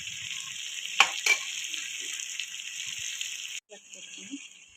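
Boiled mutton for biryani stirred in a hot pan, a bright continuous sizzle with a couple of sharp scrapes near the start, a brief cut-out, then the frying resumes close up, without talk.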